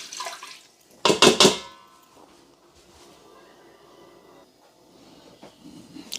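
A cup of water poured into an Instant Pot fitted with a small trivet: one short splashing burst near the start, then faint clinks and quiet kitchen sounds.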